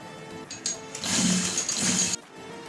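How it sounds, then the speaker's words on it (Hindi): A sewing machine runs a line of stitches along trouser fabric, a close, steady whirring burst of about a second after some brief handling clicks, then stops. "सीधा करने के बाद इस तरीके से इसके ऊपर सिलाई लगाएंगे"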